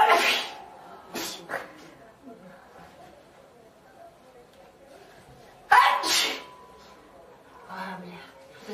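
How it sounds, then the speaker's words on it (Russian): Two sharp sneezes from a person, one near the start and another about midway, each a loud burst with quiet room sound and faint voices between them. "я сегодня много чихаю"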